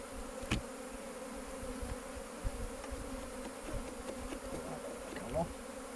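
Honeybees buzzing in a dense, steady drone at a strong hive during a queen cell inspection, close and continuous, with a few sharp clicks and knocks over the hum.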